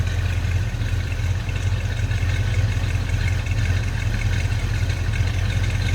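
A 1985 GMC High Sierra 1500 4x4 pickup's small-block V8 idles steadily nearby with a deep, rumbling low burble and no talking.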